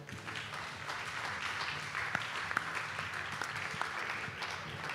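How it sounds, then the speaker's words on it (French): An audience claps at a stand during the Fête de l'Huma festival, a soft, steady patter of many hands held at a distance, with a faint murmur underneath. "je vous demande de l'applaudir"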